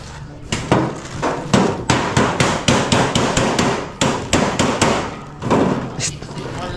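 Steady hammer blows striking repeatedly, loud and close, about two strikes per second in a regular rhythm with a short pause before resuming, voices faintly present in the background.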